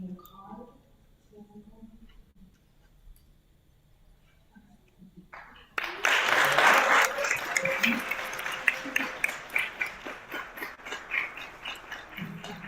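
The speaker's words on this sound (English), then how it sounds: "Well done. Round of applause." An audience at a Teaching Africa Day event breaks into applause after a presentation, starting abruptly after a quiet stretch of faint talk and continuing as loud, uneven clapping to the end.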